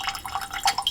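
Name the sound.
water being added to whisky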